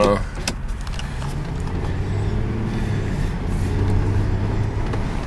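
A car drives along a road, heard from inside as a steady low engine and road drone that runs without a break for the whole stretch.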